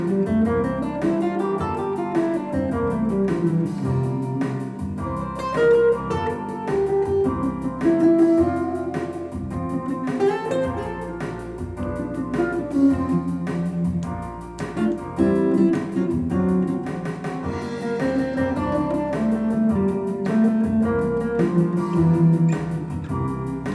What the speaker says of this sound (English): there is something called rock 12/8, and that sounds like this